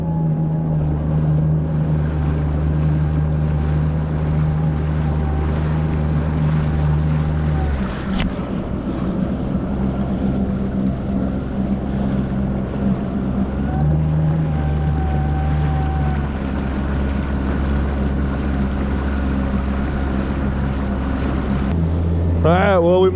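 A motorboat engine drones steadily and loudly as the boat heads out of the marina toward the speed buoy, with wind buffeting the microphone and a short shift in engine pitch midway.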